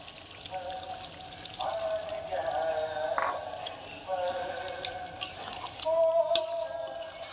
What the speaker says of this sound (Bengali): এখন আমি কমলা লেবুর জুসটা দিয়ে দিচ্ছি।